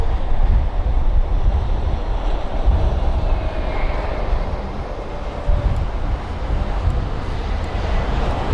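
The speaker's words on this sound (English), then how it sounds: "But first up, the A320neo" An Airbus A320neo at Heathrow gives a steady, loud broadband roar with a faint tonal whine. It holds for several seconds with a windy wash and no talk.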